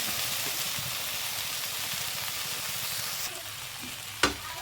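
Okra (ladies finger) fries with tamarind in a pan, giving a soft, steady sizzle and crackle heard close and alone, ending with a brief sharp clink near the end.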